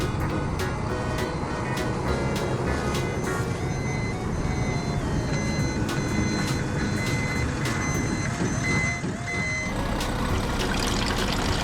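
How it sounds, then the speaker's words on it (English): An animated tanker truck backing up, its reversing alarm beeping in a regular repeated pattern over a running engine rumble, loud and steady. "Tanker truck."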